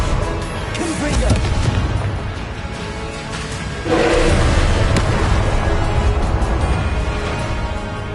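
A loud, dense burst of spell-fire explosions in the Hogwarts Legacy video game, rumbling booms piling up continuously and swelling midway, with game voices shouting mixed in.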